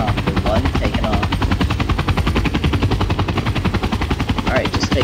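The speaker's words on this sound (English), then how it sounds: "This is Apache Attack Helicopter 1 taking off." Apache attack helicopter taking off in the video game Garry's Mod, its rotor thumping in a loud, rapid, steady rhythm throughout with a continuous engine drone underneath.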